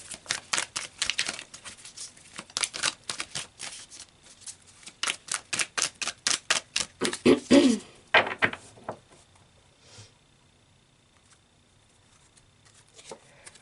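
Tarot cards shuffled in a rapid series of crisp riffles and taps, then a few cards drawn with a short murmur of voice, before the sound drops to near silence.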